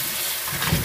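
Tap water gushing steadily into a sink to wash fresh tomatoes, a close, continuous splashing rush with no voices.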